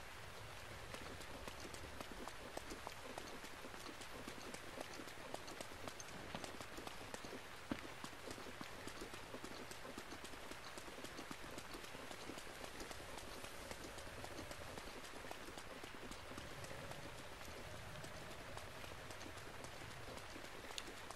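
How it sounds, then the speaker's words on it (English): Steady, faint video game rain in The Legend of Zelda: Breath of the Wild pattering on a surface, a constant dense hiss with scattered drop ticks and no talking. "but it's raining."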